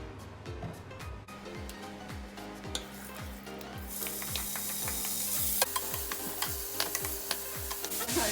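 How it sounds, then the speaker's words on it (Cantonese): Ham fries in olive oil in a pan with a soft sizzle, punctuated by regular, evenly spaced scraping stirs that continue throughout at close range, without any voices. "咁跟住咧就係煎一煎啲火腿，咁我咧就係用橄欖油嘅"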